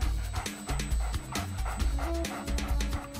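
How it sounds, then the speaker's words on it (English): A sniffer dog pants and whimpers in a children's detective show, quick rhythmic breaths and small yips set over busy background music. "I think this is a job for Rufus the Super Sniffer Dog"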